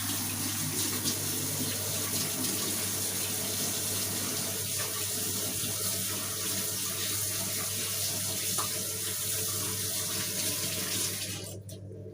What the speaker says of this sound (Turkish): Elimi yıkayayım.